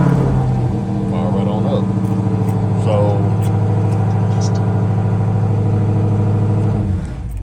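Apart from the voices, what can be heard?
Dodge Challenger Redeye engine started by key fob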